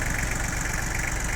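Yanmar F18D Japanese mini tractor engine idling steadily, a constant close mechanical hum with a fine rattling vibration and no pauses or voices.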